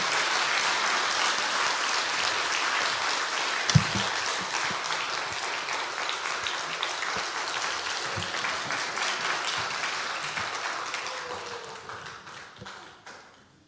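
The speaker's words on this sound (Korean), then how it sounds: "우리 박수로 환영하며 모시겠습니다." A church congregation at a revival meeting claps warmly to welcome a speaker, a sustained, full round of applause that slowly fades toward the end, with a single thump near the start.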